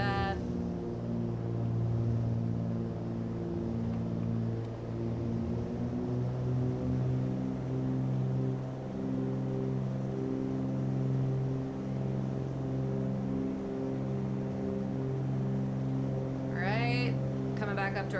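Light twin-engine airplane engines at full throttle during a practice flight, a loud steady droning hum with layered propeller harmonics heard from inside the cockpit, continuous throughout.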